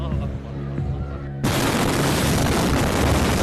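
Ammonium nitrate stored in a Beirut port warehouse detonates in 2020. Quiet background with faint voices gives way to a sudden, loud broadband roar that stays heavy and sustained until the end.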